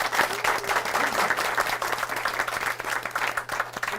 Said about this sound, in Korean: 오늘 수고해주신 MC 분들한테 박수 부탁드리겠습니다.